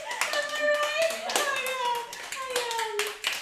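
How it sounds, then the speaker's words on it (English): Scattered clapping from a small audience at an interactive murder mystery show, sharp hand claps spread across the moment beneath voices speaking. "Round of applause, am I right?"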